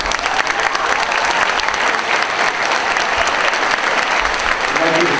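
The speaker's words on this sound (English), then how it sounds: "let's give them a big round of applause" School graduation audience giving a big round of applause for Principal's Award students, loud and sustained clapping from a crowd throughout.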